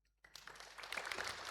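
A church congregation bursts into clapping after brief silence, many hands slapping quickly and building into dense, steady applause.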